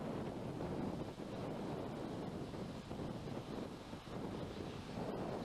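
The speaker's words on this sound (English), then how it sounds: "A little bit breezy here by the water's edge" Steady breezy wind buffets the microphone at a riverside marina's edge, a continuous low rushing roar with gentle gusts and no voices.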